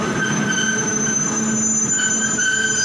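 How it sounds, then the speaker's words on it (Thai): Thai freight train 602 rolls past with its wagons, a close, loud rumble with high steady wheel squeal and metallic ringing over a few seconds. "ขบวนนี้อาจจะมาไม่บ่อยนะครับ 601 กับ 602เนี่ย"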